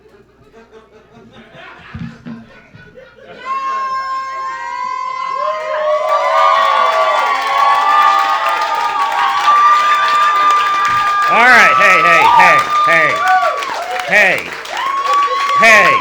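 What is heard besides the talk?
audience applauding and cheering at a comedy show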